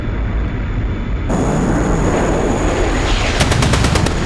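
A short, rapid aircraft cannon burst from a MiG fighter in the DCS World flight sim, fired at an F4U. It stutters out near the end over a steady, loud cockpit roar of engine and wind.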